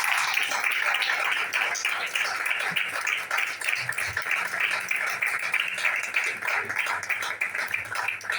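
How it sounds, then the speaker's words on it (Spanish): A church congregation claps together during a Christian sermon, steady dense applause that carries on without pause across the whole stretch, loud and close, with no speech over it. "dale fuerte las palmas a aquel que vive"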